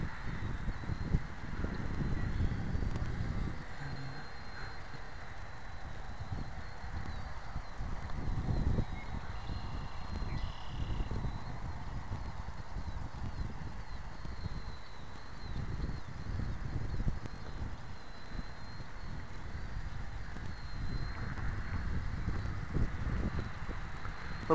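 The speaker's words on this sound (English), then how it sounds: "Good practice in this wind." Steady outdoor wind buffets the microphone as a T-28 model plane flies, with rumbling low gusts rising and falling continuously throughout and a faint high whine from the plane's motor running underneath.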